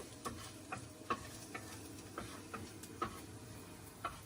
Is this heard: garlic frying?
yes